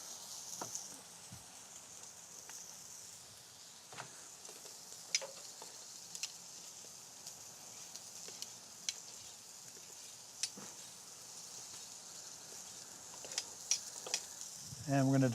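Korean-style short ribs sizzle steadily on an outdoor grill, a soft continuous hiss broken by scattered small pops and crackles, with a brief louder clatter near the end.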